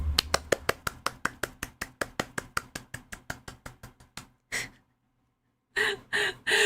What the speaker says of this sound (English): Me sniffing for dear life to inhale her pheromones